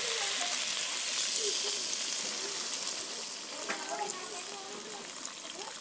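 Cauliflower and small potatoes fry with spices in a pan, giving a soft, steady sizzle with light stirring, fairly faint and close.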